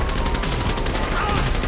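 Rapid bursts of gunfire in the video game GTA 5 rattle continuously at close range, dense and sustained throughout.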